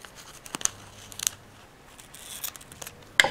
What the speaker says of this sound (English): you're going to take a scissors and just cut around it.